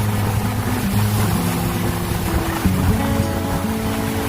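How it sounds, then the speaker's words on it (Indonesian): Small sea waves roll gently onto the shore by a coastal fishing village in Banyuwangi, a continuous soft wash with a steady low motor hum underneath and no voices. "Ombak kecil bergulung perlahan menciptakan suara alami yang begitu menenangkan."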